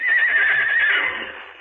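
A horse whinnies loudly and close in a 1959 Western television episode, one long shrill neigh that wavers and then fades toward the end.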